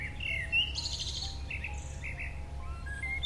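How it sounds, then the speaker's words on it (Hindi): Birds in a tree chirp loudly, with bright, repeated tweets and calls scattered over a steady low background hum and no voices. "तभी अचानक पेड़ पर बैठी चिड़ियों का तेज शोर गूंज उठा।"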